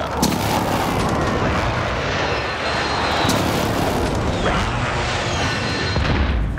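Airstrike in a military shooter game: a roaring aircraft pass and heavy booming explosions rumble continuously and loudly throughout, with crashing debris layered over the blasts.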